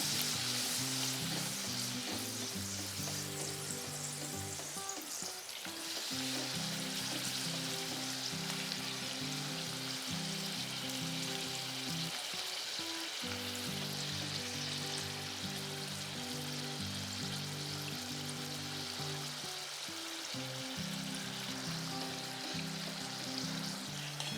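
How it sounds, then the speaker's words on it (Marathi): Star-shaped wheat-flour puris deep fry in hot oil, a loud, dense, continuous sizzle and bubbling close by, with a faint rhythmic low clatter running underneath. "आता आपण आपला जो स्टार ठेवलेला तो आपण तळून घेऊ"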